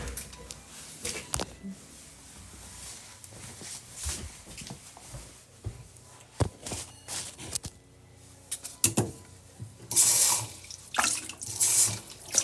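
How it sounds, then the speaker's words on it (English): Water runs from a tap into a container, an uneven splashing and gushing stream with clattering handling noises, strong bursts near the end, and no voices. "So just take a moment, go fill up your water, come back."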